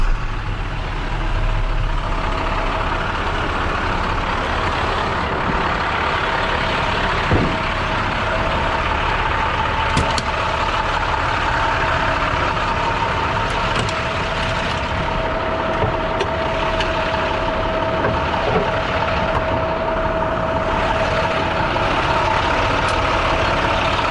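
A heavy International tow truck engine idles steadily and loudly for the whole stretch, a deep constant rumble with occasional faint clicks and knocks, no voices.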